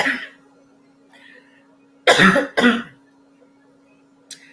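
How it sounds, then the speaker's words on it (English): Two loud, harsh bursts in quick succession, a burp and a throaty cough, against a quiet hum with faint brief noises before and after. "had a burp and a cough"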